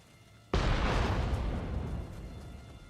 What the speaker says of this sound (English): Now who is that guy firing those cannons at us?